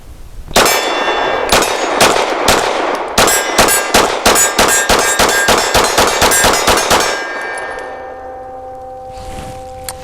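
A Rock Island Armory STK 100 pistol fires about a dozen rapid shots, each followed by a bright ringing clang from steel targets, loud and close, then the ringing fades into quiet.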